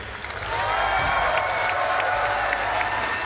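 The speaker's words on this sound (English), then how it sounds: "give a big round of applause to Outback" Dense audience applause with some cheering at a Rainbow Six Siege Year 4 roadmap reveal event, greeting the Outback map. It swells in after a brief moment and stays loud and steady, with no talking over it.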